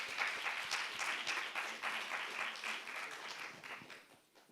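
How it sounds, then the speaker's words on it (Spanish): An audience at a talk gives sustained applause, dense clapping at moderate volume that tapers off toward the end. "Un aplauso, por favor, para ellos."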